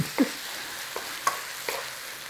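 Sausage meat and onions cook in a pan with a soft, steady sizzle, broken by a few brief scraping stirs. No one speaks.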